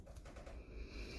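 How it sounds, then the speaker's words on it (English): Wild birds feeding at a farm in the morning, soft low cooing like pigeons or doves, faint and somewhat distant against a quiet background. "And the wild birds. They're having breakfast too."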